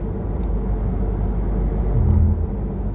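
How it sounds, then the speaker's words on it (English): A deep, continuous thunder rumble rolls on for a few seconds during a lightning storm, loud and low, swelling slightly near the end. "Wow, there's some serious thunder and lightning."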